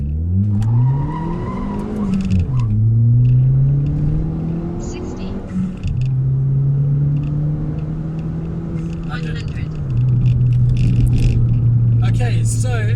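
A Ford Fiesta ST engine revs up through the gears in a 0–100 acceleration run, its drone climbing and dropping at each shift, loud and close, with voices talking over it.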